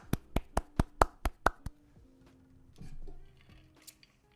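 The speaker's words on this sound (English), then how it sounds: "Oh, I love all the claps." About eight sharp claps in a steady rhythm ring out at a Krunker esports tournament, followed by a faint murmur and a few scattered taps.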